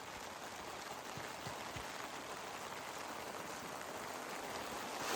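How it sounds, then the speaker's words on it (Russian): Steady rain falling at a mountain campsite with a tent pitched, a dense, even hiss of drops that continues unbroken and close by, with no voices. "Все еще идет дождь."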